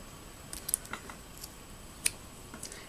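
Scissors snip a yarn end at the edge of a crochet scarf: a few small, crisp clicks close by and very soft, with one sharper cut near the middle and a quiet background.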